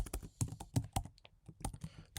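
Fingers type on a computer keyboard in short irregular bursts of crisp, close clicks and taps, quiet overall with brief pauses between keystrokes.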